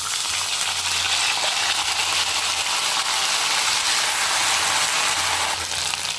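A paste of ground green chili and ginger fries in hot oil over a tempering of dried red chili and bay leaf for Bengali-style cabbage, giving a loud, continuous sizzle that barely eases near the end.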